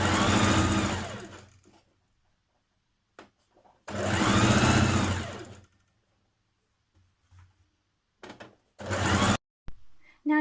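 A home sewing machine stitches the side seams of a maxi skirt in loud bursts of running motor whirr, two long runs of about two seconds each and shorter spurts near the end, separated by quiet pauses.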